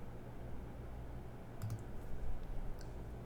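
A computer mouse clicking a browse button, heard as a couple of quick, faint clicks over low room hum, with another light click a moment later.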